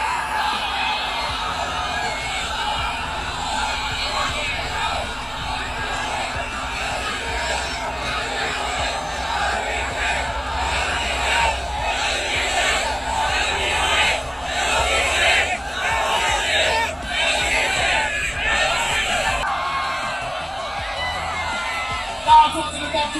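A large crowd of fans cheers, whoops and yells for LeBron James at an event in China, a dense, sustained roar of voices with rising swells and a few sharper shouts throughout.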